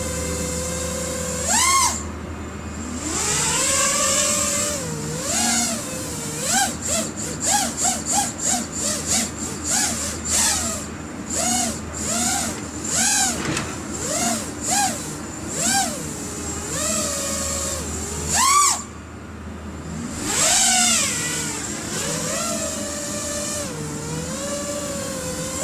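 An Armattan Rooster quadcopter drone hovers nearby, its motors producing a steady whine that rises and falls in many quick pulses as the throttle shifts, with a few short breaks, over about twenty-five seconds and with no voices.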